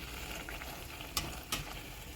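Sweet pumpkin puri, or gharge, fry in hot oil as a steady close sizzle and bubbling, broken by two brief sharp clinks of a utensil, with no one speaking.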